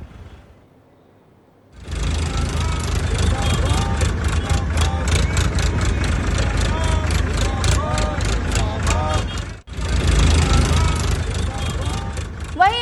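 A tractor engine runs steadily as it is driven along a road from Devdand to Shivpur market, a loud, continuous low rumble that starts after a brief quiet moment and carries on with a short dip.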